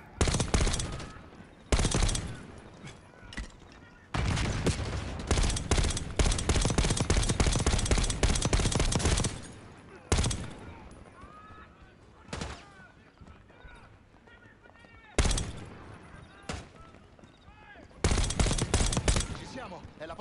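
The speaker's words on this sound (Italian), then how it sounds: "I miei compagni stanno sparando." Heavy automatic gunfire from squadmates in Call of Duty Black Ops 6, long sustained bursts of machine-gun fire broken by short pauses, loud and close, with speech heard between volleys.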